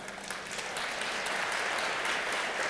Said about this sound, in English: we got some applause on that.